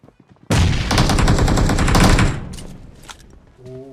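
Loud, sustained automatic gunfire in PUBG Mobile, striking a wall at close range: a dense burst lasting about two seconds, then scattered shots fading out, with no talk over it.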